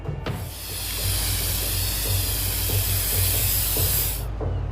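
A steady spray-paint hiss from an aerosol can in the video game Infamous: Second Son, with a sharp onset that sustains evenly for about four seconds and then cuts off cleanly, with no talk over it.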